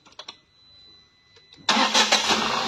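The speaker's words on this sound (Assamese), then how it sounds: "तो भाई वन टाचत गाड़ी स्टार्ट हो गई" A car engine cranks and catches on the first try after a new battery is fitted, following a few quiet clicks and a short starter whir, then settles into a loud, close, steady run.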